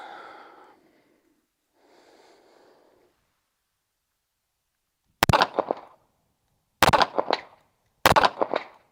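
Three sharp pistol shots from a Phoenix Trinity fitted with a Kovert Honcho ring out at an outdoor range, each a loud crack followed by a brief echoing tail, well spaced; faint breathy sounds precede them.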